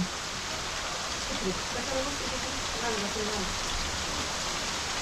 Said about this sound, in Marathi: धार चालू झाली